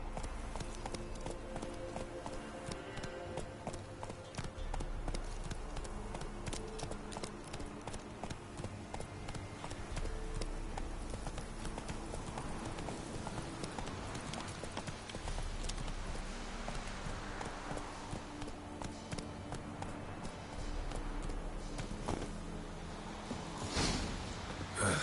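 Roach the horse galloping in a video game, its hooves clip-clopping in a fast continuous rhythm throughout, close and fairly loud over a dense game soundscape.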